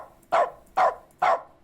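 Three evenly spaced, short barks from a human voice imitating a dog, clear and close with brief pauses between them.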